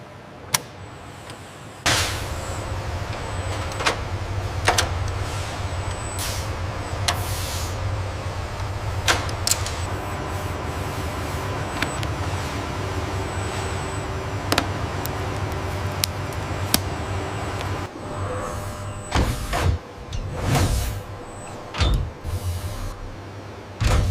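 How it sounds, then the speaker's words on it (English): A torque wrench tightening fasteners during cockpit assembly of a Mercedes-AMG Project ONE hypercar in a factory: sharp, separate clicks and snaps sound over a steady low hum, with a denser cluster of clicks near the end. "Engaging the torque wrench now."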